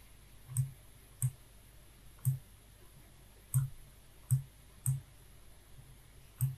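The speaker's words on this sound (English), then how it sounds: "So I'll type my text in." Slow, evenly spaced keystrokes on a computer keyboard as caption text is typed in Premiere Pro, about nine crisp, close clicks with short pauses between them and no voices.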